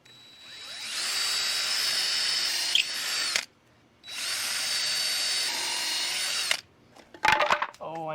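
A power drill whirs loudly through wood in a pocket hole jig, in two sustained bursts of about two and a half seconds each, separated by a short pause, followed by a few brief clatters.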